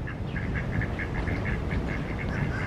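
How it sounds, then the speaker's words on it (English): Ducks gathered along a beachside shopping area quack in a quick, repeated series of short calls over a steady background wash, fairly close and with no talking. "More ducks up here."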